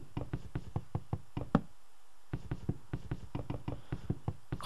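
A steady run of crisp knocks as blocks are broken in the Minecraft video game, evenly paced with one brief pause partway through, close and fairly quiet.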